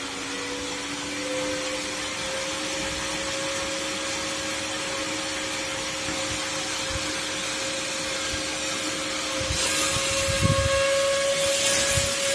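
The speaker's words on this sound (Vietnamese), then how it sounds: "Các bạn có nghe tiếng quạt nó tăng lên không?" A 12-volt cooling fan driven through an adjustable voltage board hums steadily, its whine climbing in pitch as it spins faster, loud and close with no talk over it.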